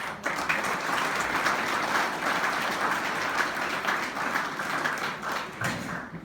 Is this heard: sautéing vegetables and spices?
no